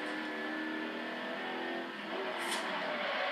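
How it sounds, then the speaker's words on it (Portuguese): In the racing game Forza Horizon 2 on Xbox 360, a car engine accelerates on a highway with a steady, smooth whine. It sounds moderately faint and continuous throughout, with a brief brighter hiss near the end. "Pisar fundo aí nesses carros aí."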